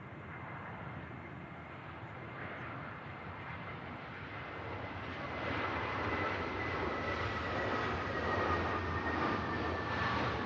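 An Aer Lingus airliner lands at Manchester Airport in blustery weather, its jet roar building steadily and growing louder partway through as it nears touchdown, with a thin tonal whine above the rushing noise.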